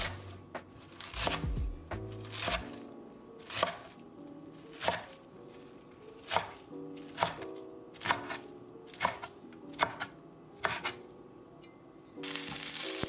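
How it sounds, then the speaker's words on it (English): A knife chops through fresh chives on a cutting board in about a dozen evenly spaced, crisp strikes, fairly close and clear, with soft handling noise between cuts and no speech. "Now I'm going to cut the chives about 1 inch long."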